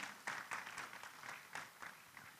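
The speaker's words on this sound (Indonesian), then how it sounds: "kita berikan tepuk tangan untuk Prof." Audience applause for Prof. Bambang at an economic seminar in Indonesia, a faint, distant patter of clapping with a few louder swells across a couple of seconds, no voices over it.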